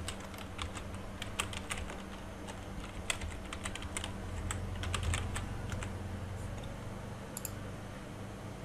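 Computer keyboard keys clatter in quick irregular bursts while text is entered in AutoCAD, soft and close with a faint room hum beneath and no talk.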